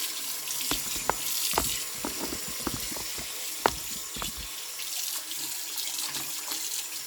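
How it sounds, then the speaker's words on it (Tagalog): Cloth being washed with soap under a running tap, a continuous splashing water stream with irregular wet rubbing and sloshing bursts close by. "At saka pwede lagyan ng sabon para malinis"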